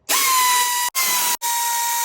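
Power tool whirring loudly on a Ford F150 Raptor with a Roush supercharger, driving fasteners to remove the skid plate, in three close bursts separated by brief stops.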